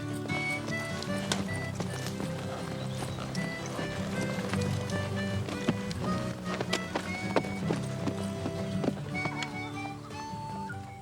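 A horse named Strawberry clip-clops along at an easy pace on a Wild West ride, quick hoofbeats mixed into busy background music.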